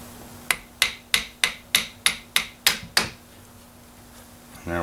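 Nine sharp, evenly spaced metallic taps ring out as a punch is struck to drive the pins out of a Ruger 10/22 rifle, loud and close, followed by a brief pause.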